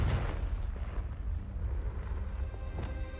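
A Confringo fire-blast spell bursts in Hogwarts Legacy, a loud, dense rumbling explosion that roars from the start and sustains with rolling booms for a few seconds, with no talk over it.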